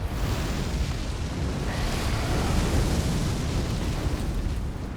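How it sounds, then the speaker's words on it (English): A big explosion in Elden Ring Shadow of the Erdtree, heard as a loud, sustained roaring rumble with a broad noisy wash that swells slightly midway and keeps going to the end. "Oh, big explosion"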